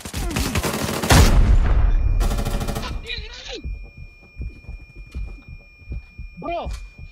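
A grenade blast in Arena Breakout erupts as a loud, close boom amid ongoing gunfire, followed by a rattling burst of automatic fire, with brief voices calling out afterward.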